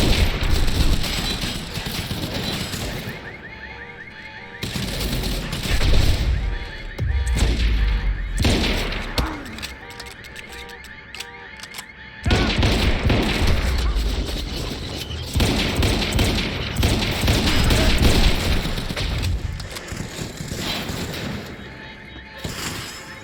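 Heavy machine gun fire from an enemy gunner in the action game Quantum Break, sustained loud bursts with booming impacts and thuds broken by short lulls, plus occasional speech.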